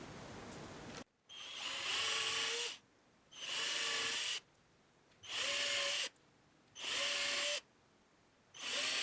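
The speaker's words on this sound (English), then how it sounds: "Now I've got the 1/16 of an inch drill bit, and I'm going to drill these holes" A drill with a 1/16 inch bit bores tuner holes in a scratch-built electric guitar: five close, whining bursts of a second or so each, separated by short quiet pauses, with pitch dipping under load.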